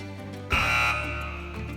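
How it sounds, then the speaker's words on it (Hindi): A contestant buzzer on a Ramzan Islamic knowledge quiz show sounds one loud, sustained electronic tone that starts abruptly and holds steady, then fades slowly under a low background hum. "चले बजर इनेबल कर रहा हूं मैं।"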